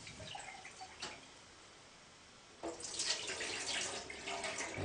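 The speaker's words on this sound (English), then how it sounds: "Let's give it another rinse now." Running tap water pours into a pot of rice being rinsed, a steady splashing hiss that starts with a short burst, then grows fuller and louder partway through.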